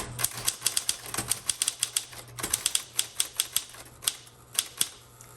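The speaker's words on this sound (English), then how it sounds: "And then you can start typing." Typing on a metallic gray 1960s Smith Corona Electra 110 electric typewriter: crisp, close keystrikes in quick irregular bursts over the low steady hum of its running motor.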